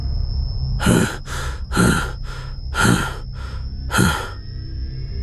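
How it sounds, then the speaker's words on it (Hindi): Heavy, slow breathing in a horror story, about four deep ragged breaths with long drawn exhales, close and loud over a faint steady high tone, with no talking. "तभी उसको अपने पीछे से भारी सांसों की आवाज आने लगी।"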